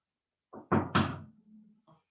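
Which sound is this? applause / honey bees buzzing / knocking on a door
knocking on a door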